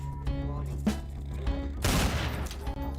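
Desert Eagle pistol fire in a video game, several loud close shots with a dense burst of rapid gunfire near the end, over steady game background sound.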